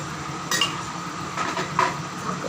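A metal lid is set on a cooking pot of Marathi prawn rassa masala, giving a few light clinks and rattles at close range over a quiet kitchen background.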